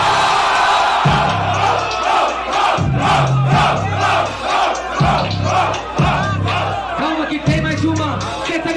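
Rap battle audience at Batalha da Aldeia roaring and chanting for a rapper, a loud, crowded shouting that rises and falls in rhythmic waves of battle cries and whoops throughout.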